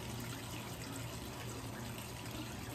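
Water runs steadily from a tap, a faint, constant wash while makeup is rinsed off a face, with no talking.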